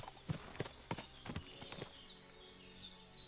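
Horse hooves clip-clop in a medieval nomad camp in Kingdom Come: Deliverance II, about six distinct, evenly paced strikes over the first two seconds, then the steps stop and faint camp ambience remains.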